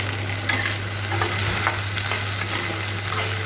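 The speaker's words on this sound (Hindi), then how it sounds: "ये देखिए जी, मैंने भिंडी डाल दी है इसके अंदर, और अब मैं इसको दूंगी लाइट स्टर" Okra sizzles steadily as it fries in a pan, with light stirring scrapes recurring every second or so over a constant hum in the background.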